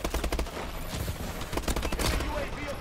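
Futuristic rifle fire rattles in rapid bursts during a Call of Duty: Advanced Warfare online multiplayer match, loud and dense over game sounds, with a player talking over it.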